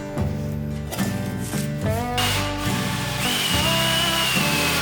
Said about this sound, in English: Then I drilled it out with a pilot hole and then with a bit the same size as my axle.